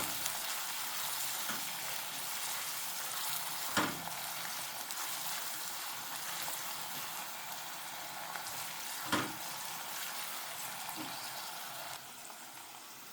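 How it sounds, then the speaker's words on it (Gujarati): Onions frying slowly over low heat in a pan, a quiet continuous sizzle and hiss with two brief louder stirring knocks, no talking. "ડુંગળીને આપણે ધીમા તાપે ચડવા દઈશું"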